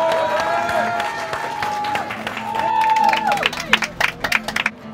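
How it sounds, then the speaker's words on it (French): Audience applause at a street event, rising from voices and a few claps into a burst of sharp, closely spaced hand claps over the last couple of seconds, with cheering and talk mixed in. "On peut l'applaudir."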